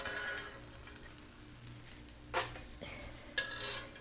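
Toasted pepitas are spooned into a blender in a quiet kitchen: two soft, brief clinks and scrapes against a faint background.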